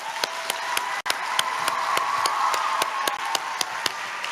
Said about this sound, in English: Another round of applause for all of our contestants.